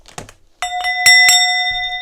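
A few soft knocks and rattles lead into a handbell being struck, its bright metallic tone ringing out clearly and sustaining as it slowly fades, close by.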